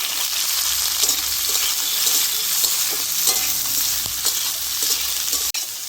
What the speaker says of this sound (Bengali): পেঁয়াজটা দিয়ে দিচ্ছি, পেঁয়াজটা আমি ভেজে নেব।